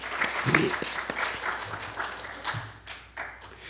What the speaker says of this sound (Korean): 권사님께 한번 박수 한번 쳐드리겠습니다